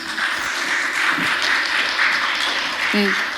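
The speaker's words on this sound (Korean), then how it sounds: "큰 박수 부탁드리겠습니다" Applause from an audience at an archaeology academic conference after a presentation, heard as a steady wash of clapping throughout, with a brief voice sound near the end.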